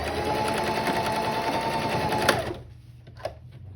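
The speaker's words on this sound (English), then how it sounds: "And sometimes I get the spandex into the machine because I've just sewn it so much." A sewing machine runs steadily, stitching spandex fabric for a face mask, and its loud continuous whirr fills most of the clip before stopping abruptly. A soft click and faint room noise follow.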